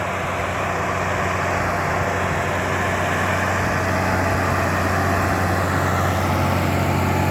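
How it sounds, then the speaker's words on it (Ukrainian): A tractor working a field with a KhTA-200 cultivator, its engine a steady, loud, low drone with no pauses, heard close by and alone. "Ось наш трактор йде."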